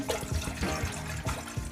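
Tap water splashes and gurgles over lentils being washed in a bowl, a close, uneven run of splashes and sloshing pulses with no talk.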